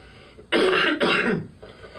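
A single loud, harsh cough or throat-clearing burst, close up, split into two quick rasping pushes.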